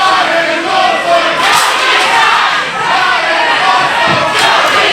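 Loud wrestling crowd at a Ranch Hand Shawn Carlson versus Ty Awesome match roars and cheers continuously, a dense deafening wall of shouting voices close around.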